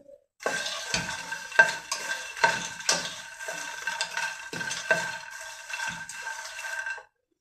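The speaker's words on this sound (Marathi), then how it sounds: "तर गॅस फास्ट नको आपल्याला, अतिशय मीडियम गॅसवरती आपण भाजतोय." Makhana (fox nuts) roasting in ghee in a pan over a medium gas flame, stirred with a utensil in repeated scraping, rattling strokes over a soft sizzle. The sound is close and stops abruptly.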